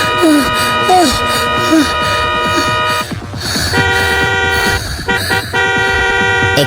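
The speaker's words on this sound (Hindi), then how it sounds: "एक कार के हॉर्न से" A car horn blares in a long, sustained honk over a dense musical backdrop, briefly broken and then resuming.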